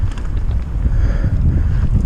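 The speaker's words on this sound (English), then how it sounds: "it's really windy" Strong wind buffets the microphone during a bike ride down a trail before a wind storm, a continuous loud, low rumbling roar with no talking.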